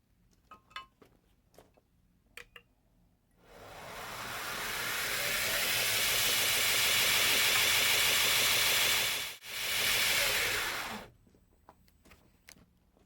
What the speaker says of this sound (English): I'm just going to do a quick contour with a worn 36 grit belt